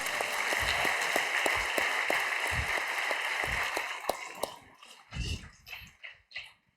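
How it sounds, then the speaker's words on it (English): Applause for all participants at a makeathon final pitch event, steady clapping that holds for about four seconds and then thins out, followed by a few separate thumps and knocks with no talk. "A big applause for everyone"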